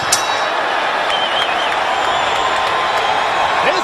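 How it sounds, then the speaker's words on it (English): A boxing arena crowd roars excitedly during a fight between Ricardo Mayorga and Vernon Forrest, a dense, loud, continuous wall of cheering and whoops with a ringside commentator talking over it. "This crowd is excited now."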